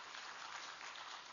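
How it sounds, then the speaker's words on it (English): An audience of psychiatrists at a conference oration gives Dr. Pratima Murthy a steady wash of applause, a dense even clapping heard at moderate distance without voices. "And give her a big applaud."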